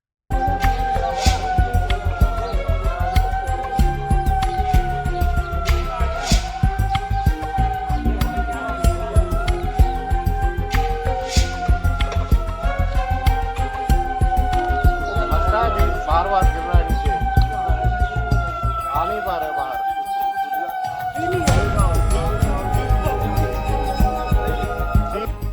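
An elephant in Russia gives a siren-like call, a series of rising and falling wails that repeat in regular waves over a low rumble.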